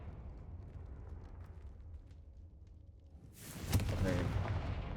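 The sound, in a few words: Confringo fire spell cast in Hogwarts Legacy video game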